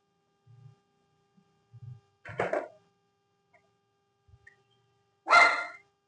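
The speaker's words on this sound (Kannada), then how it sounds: "ನಮ್ ಮ್ಯಾಕ್ಸಿ ಬೊಗಳ್ತಾ ಇದ್ದಾನೆ, ಗಲಾಟೆ ಮಾಡಬಾರ್ದು" Two sharp dog barks separated by a few quiet seconds, the second louder and fuller, with faint low grumbles in between.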